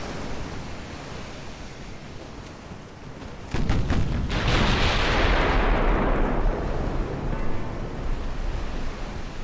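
Secondary guns on an 1890s Italian warship fire in a naval strategy game: a quick cluster of sharp reports breaks into a sustained heavy roar over a constant noisy wash, loud and close.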